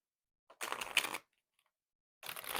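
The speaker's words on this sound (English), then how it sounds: "Let me give this one more shuffle, actually." Tarot cards being shuffled by hand in two short riffling bursts separated by a pause, crisp and close with no talking.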